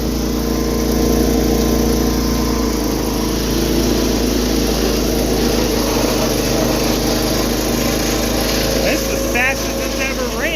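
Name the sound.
engine running at higher throttle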